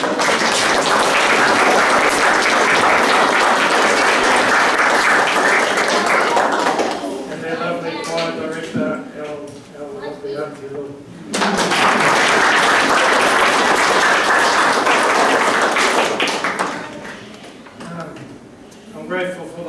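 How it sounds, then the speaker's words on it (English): Applause from the audience at a chapel dedication in Te Kuiti, following a choir performance. A broad, loud wash of clapping fills the first seven seconds, gives way to a quieter stretch, then swells again before fading near the end. "I'd like us to have another round of applause for the tones of all people."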